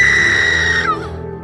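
A woman screams loudly in a horror story, one long high sustained shriek that breaks off near the end and leaves a quieter tail.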